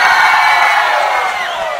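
Women in a live concert audience cheer and shriek together, a loud, sustained high-pitched crowd roar that holds steady throughout.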